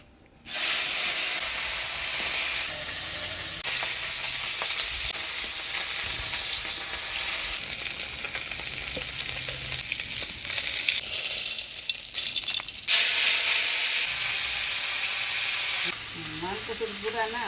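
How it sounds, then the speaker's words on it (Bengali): Fish fry in a pan of hot oil for a Bengali mixed-fish dish, giving a close, steady hiss and sizzle that runs for about seventeen seconds with small crackling swells. "এবার মাছগুলো ভাজে নেব"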